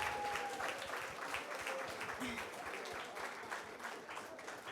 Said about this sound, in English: So I would like for you guys to give them a round of applause.